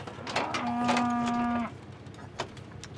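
A cow on a cattle farm lets out one loud, drawn-out moo lasting about a second, close by and clear, followed by quieter rustling and a short thump.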